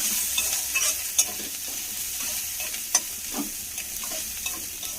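Ground cumin, coriander, turmeric and chili powder fry in hot oil over low heat, giving a steady soft sizzle broken by occasional scrapes and clinks of a spoon stirring.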